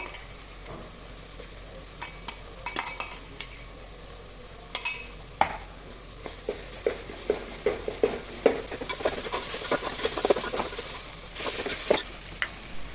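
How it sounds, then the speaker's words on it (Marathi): Ginger garlic paste frying in butter for pav bhaji, with a soft sizzle beneath irregular clinks and scrapes of a spoon stirring against the pan, growing busier toward the end. "आलं लसूण पेस्ट चांगली भाजलेली आहे आपली इथं"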